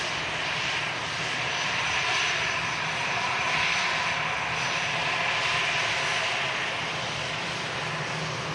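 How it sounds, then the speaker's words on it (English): An Airbus A321neo airliner drones steadily with a broad engine roar that swells and eases slightly, heard from a moderate distance outdoors with no voices. "Airbus A321neo aircraft"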